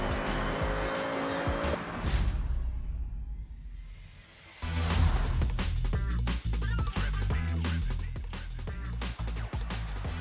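Cars in the Forza Horizon 6 racing game roar hard as they accelerate, with a loud engine note and tire squeal that briefly drops away mid-clip before the full racing roar bursts back in and sustains.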